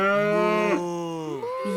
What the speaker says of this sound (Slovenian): Kako dela krava? Ja. Krave delajo mu.